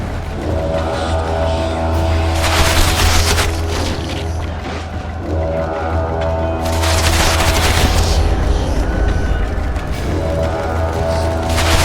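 Sustained bursts of gunfire and booming blasts in The Witcher 2: Assassins of Kings Enhanced Edition battle, loud and dense throughout with two heavier volleys, over a steady low rumble.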